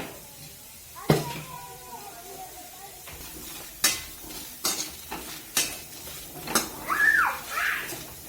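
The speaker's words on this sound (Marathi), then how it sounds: "आपल्याला सुरुवातीला कांदा परतून घ्यायचा चांगला बघा" Sliced onion is sautéed in a pan, stirred over a faint sizzle with sharp spoon-on-pan clatters and scrapes landing every second or so.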